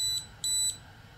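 A temperature alarm sounds during a skateboard battery repair with high electronic beeps, one short, then two longer tones close together, clear and near with no talking.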